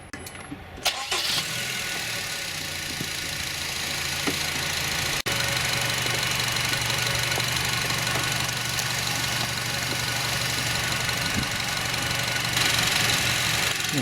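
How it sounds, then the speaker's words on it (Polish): A Honda CR-V 2.0 engine cranks and catches, then settles into a steady idle with a faint rhythmic knock, running on alone for over ten seconds. "odpalamy silnik i zostawiamy na wolnych obrotach na 10 minut"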